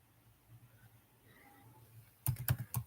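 Computer keyboard typing of code starts after a quiet stretch with a brief quick burst of close, crisp keystrokes near the end.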